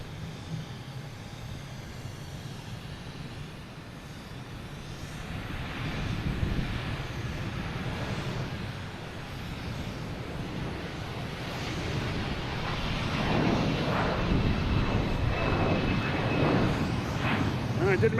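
An SAS airliner departs Boston Logan for Copenhagen, its engine roar building from a distant rumble to a broad, loud wash outdoors amid wind noise.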